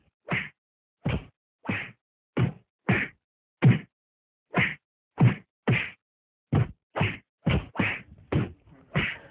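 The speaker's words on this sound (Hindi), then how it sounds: "सिर्फ 1 मुक्का और 2 थप्पड़ काफी नहीं थे, किस्मत के खुदा ने इससे ज्यादा लिखा था विनय" Staged punch and slap effects for a Hindi audio drama about a beating in a college canteen: about fifteen sharp, loud thwacks and smacks, fairly evenly spaced and each standing alone, coming faster and overlapping toward the end, with no voices.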